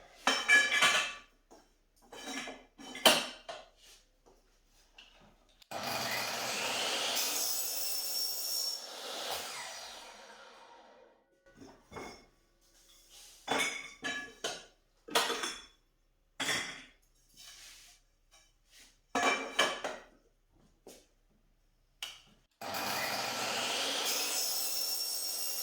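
Aluminum pipe is cut to length for folding table legs, with bursts of metallic clinks and handling knocks, then long steady stretches of rasping sawing, close up and without talk.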